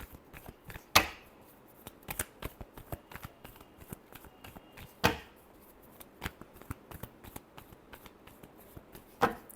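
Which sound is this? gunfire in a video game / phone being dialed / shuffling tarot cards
shuffling tarot cards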